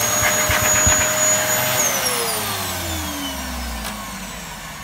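Two Dyson upright vacuum cleaners, a DC14 and a DC40, run together with a steady loud motor whine and brush roll drone, the pitch slowly falling as one winds down, with no talking.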